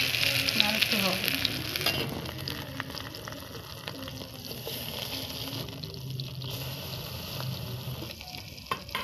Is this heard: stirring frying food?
yes